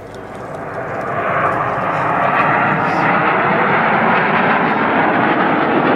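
Red Arrows jet aircraft performing a vertical break manoeuvre at a Southport airshow, a loud sustained broadband engine roar that swells over the first seconds and then holds steady, close and dominant.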